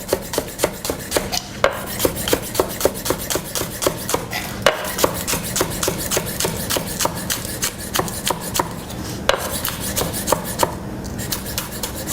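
A knife roughly chops raw vegetables on a board in steady, fast, evenly spaced strokes that carry on throughout, close and crisp, with no voices.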